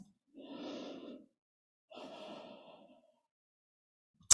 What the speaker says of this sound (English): As you exhale, roll the ball out, coming into that forward reaching stretch. Take 3 breaths.